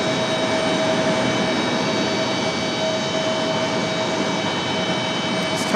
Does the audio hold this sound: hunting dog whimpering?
no